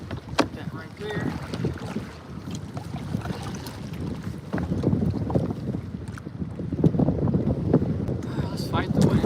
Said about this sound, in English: Let's fight the wind.